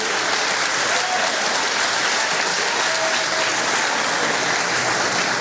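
Loud, sustained applause from a church congregation during a worship service fills the space evenly, a constant dense patter of clapping with no pauses.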